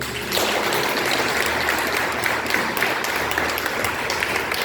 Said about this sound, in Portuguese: As palmas é para o Senhor